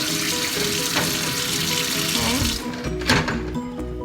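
Sink tap water runs steadily over soaked mung beans being rinsed, a loud continuous splashing rush that shifts and clatters near the end as the beans are handled.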